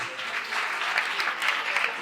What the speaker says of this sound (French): j'aimerais que vous vous applaudissiez très très fort